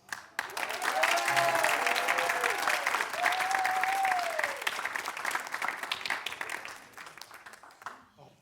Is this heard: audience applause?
yes